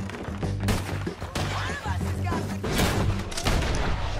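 Rapid gunfire in the western shooter Red Dead Redemption 2 during a bounty-hunting shootout, dense overlapping shots and booming thuds crackling continuously, loud and close, with a player voice talking over parts of it.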